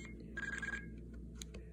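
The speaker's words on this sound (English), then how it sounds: "you could key up your radio and play these tones to get a dial tone back from the base station." Brief electronic signalling tones from an IMTS pre-cellular mobile radiotelephone, a steady pure tone with a short burst of higher tones, fairly faint over a low background hum.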